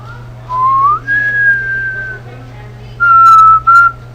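A person whistles a short sliding phrase that rises then holds, pauses, and returns with two more steady notes, loud and close over a low constant hum.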